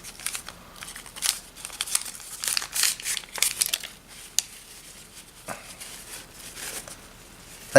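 Crinkling of a paper packet of MRE napkins or toilet paper from a spaghetti and meat sauce ration, close and in bursts of rustling and crackling, with a sharper crackle near the end and no talk.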